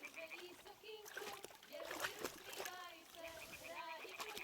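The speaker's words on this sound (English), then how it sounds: "Throw a stone in the water near her to lure her away" A stone thrown into water in Kingdom Come Deliverance II lands with a bright splash and some splattering, heard under an ongoing voice in a medieval game scene.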